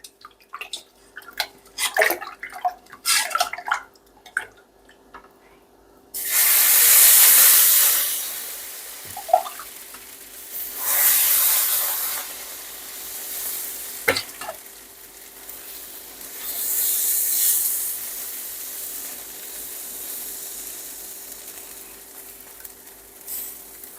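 Rava dosa batter hits a hot pan and hisses into a loud sizzle, swelling and fading in several broad waves, with light stirring clinks and scrapes before the frying starts.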